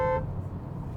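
A new 2026 Hyundai Venue's car horn gives one very short, clear tonal beep, then the sound drops to a low background hum.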